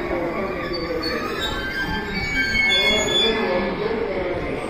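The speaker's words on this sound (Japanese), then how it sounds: "反対側からは快速電車" A rapid train pulls into a platform at JR Osaka Station, its wheels squealing in high thin tones over a continuous rolling rumble that stays loud and close throughout.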